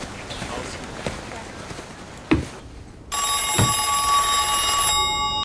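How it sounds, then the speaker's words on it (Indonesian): A telephone bell starts ringing partway through, a bright sustained electronic ring that continues steadily to the end, preceded by a few thuds and footstep-like knocks in a quiet room. "tiba-tiba telepon berdering"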